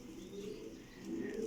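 Pure black breeder pigeons give low, soft cooing murmurs, steady and close, swelling slightly toward the end.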